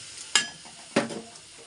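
Tomato and turmeric fry together in a pan for a cauliflower, potato and paneer curry, with two sharp stirring scrapes standing out over a soft, steady sizzle.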